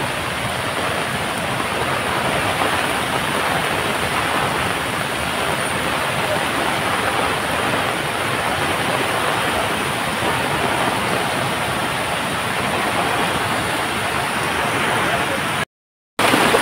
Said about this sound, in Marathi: फुल एकदम सुसाट पाणी वाहत आहे.